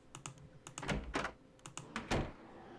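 Computer keyboard typing in the Nancy Drew PC game The Haunted Carousel: irregular bursts of clacky keystrokes in quick clusters, close and fairly quiet, with short pauses between runs and no talking.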